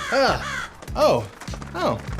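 A crow calls three times in harsh, throaty caws spaced evenly about half a second apart, loud and close with no talking.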